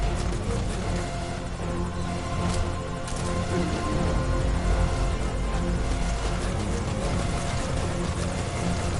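Helicopter in the video game Metal Gear Solid Ground Zeroes, a loud, continuous rotor thump and turbine drone close by, steady throughout with layered engine hum and no voices over it.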